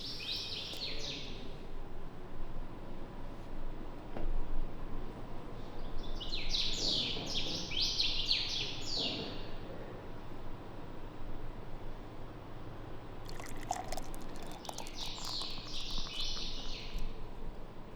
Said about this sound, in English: in the morning we've been woken up by singing birds